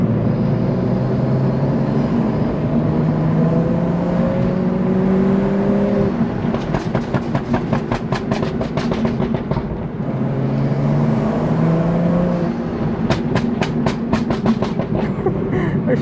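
BMW M2 or 235i engine growls loudly and steadily while driving, with rising and falling revs and bursts of sharp crackling pops from the exhaust.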